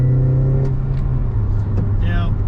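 A Honda Accord CL9 engine pulls in first gear with VTEC engaged, a loud, close, steady engine drone lasting a couple of seconds, with a voice over it.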